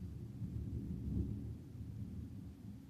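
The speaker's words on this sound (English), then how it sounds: "I don't know if you guys can hear it or not, the thunder in the background." Distant thunder during heavy rain, a low, soft continuous rumble that swells briefly and then fades, faint and heard alone with no voices.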